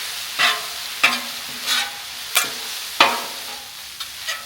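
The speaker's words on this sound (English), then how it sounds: "Gonna add a little bit of this barbecue sauce to the noodles. Let's stir that all together." Noodles tossed with barbecue sauce on a hot griddle, a spatula scraping and clacking in a series of sharp strokes roughly every half second over a steady low sizzle.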